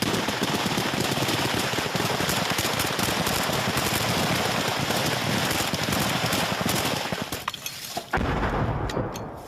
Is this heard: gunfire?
yes